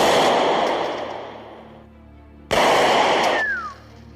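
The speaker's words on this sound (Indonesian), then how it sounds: "Si bos kemudian menguji kemampuan Ivan dalam menembak jarak jauh." Two loud suppressed long-range sniper rifle shots in a film, each a sharp broadband burst that rings out and decays, the second followed by a brief descending whistle-like tail.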